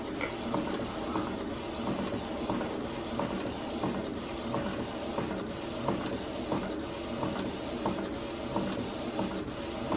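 A Canon printer prints a drawing with a steady mechanical whir and regular rhythmic clicks and ratcheting from the moving print head, heard close by with no talking.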